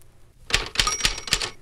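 Typewriter keys struck in touch-typing practice, four sharp, evenly spaced clacks in quick succession, close and clear with no voices.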